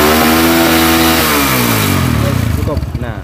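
Pickup truck engine being revved hard, a loud, close rising roar that holds high and then winds down to a throbbing idle.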